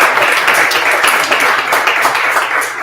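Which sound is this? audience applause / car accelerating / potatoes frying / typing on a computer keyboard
audience applause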